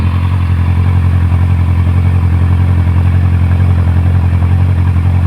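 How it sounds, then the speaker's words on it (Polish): A 2012 Honda CBF600 SA motorcycle engine runs steadily up close, its loud, even mechanical drone with a regular pulsing beat continuing alone throughout. "Reakcja jest błyskawiczna czuć, że jest to serduszko ze sportowego motocykla."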